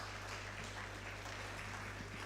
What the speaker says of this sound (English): Let's give him, please, another warm round of applause